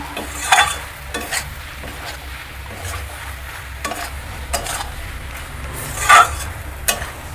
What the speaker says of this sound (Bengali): এটাকে এবার আমি ভালো করে কষিয়ে নেব